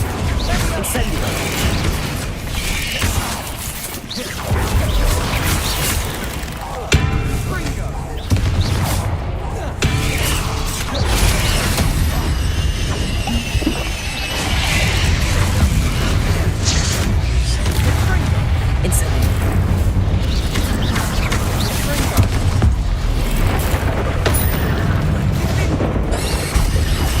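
Incendio fire spells cast in Hogwarts Legacy, a dense, continuous mix of booming blasts and mechanical crackle under a voice talking throughout.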